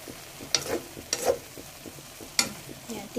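Buttered shrimp cook in a covered pan, giving a low sizzle broken by a few sharp clinks and knocks from utensils or the lid.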